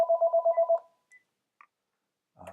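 A telephone rings close by in a quick electronic warble, a burst of rapid pulses lasting under a second. After it come a few faint clicks and then brief muffled handling noise.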